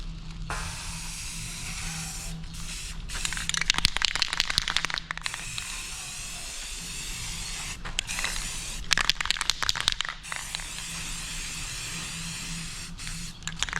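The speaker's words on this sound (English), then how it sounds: "We're just gonna fog it." Satin black spray paint is fogged onto a truck ramp in steady, close, hissing bursts. The spraying pauses briefly a few times and then continues, with no talk.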